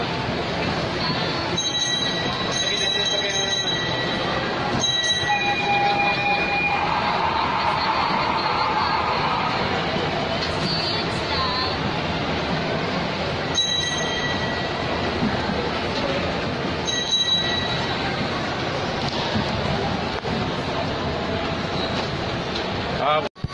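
A train rolls past at SM Cebu with a loud, continuous rumble of rail noise, brief squeals and bell-like tones across its length, and a busy crowd in the background.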